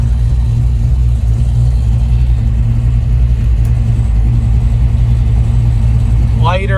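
A restored 1965 Ford Mustang's engine runs with a steady, loud low rumble throughout, an idle that holds even under a faint high chirp near the end.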